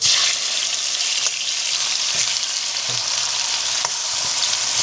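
Onions are stirred while they fry in a pan for bistek with pig ear. A constant, close frying hiss plays alone, with a few soft utensil taps and scrapes.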